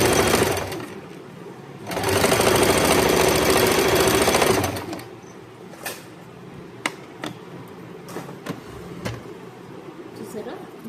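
A sewing machine top stitching a pair of shorts runs in one loud, fast, steady burst of a few seconds amid quieter handling noises, with a person talking throughout.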